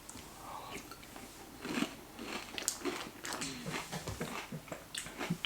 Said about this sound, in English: So I'm going to enjoy my bowl of cereal.